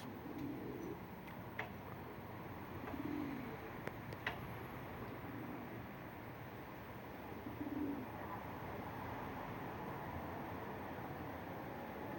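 Soft, low cooing calls repeat a few times at a slow, irregular pace over a steady background hiss, with occasional faint ticks.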